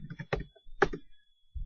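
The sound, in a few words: typing into a search box on a computer keyboard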